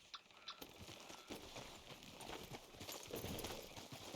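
Horse hooves clip-clop steadily on the ground in the Red Dead Redemption 2 video game, a continuous close rhythm of soft thuds with no talk over it.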